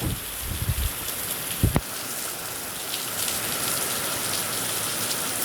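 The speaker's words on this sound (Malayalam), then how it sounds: "നല്ല മഴയുടെ തുള്ളികളൊക്കെ വരുന്നുണ്ട്" Steady rain pours down on banana plants, a dense continuous hiss of drops with a few brief closer thuds and rustles early on.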